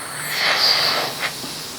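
A steady hiss of steam escaping from a puttu steamer cooking oats puttu swells and fades over a couple of seconds, with a small puff near the end.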